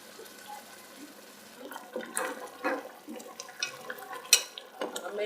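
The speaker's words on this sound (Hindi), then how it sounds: "अब मैं इसमें पानी डाल रही हूँ।" Water is poured into a pot of beef paya (trotters) browned with tomato and spices, giving a splashing, bubbling pour with clinks of pot and spoon at close range.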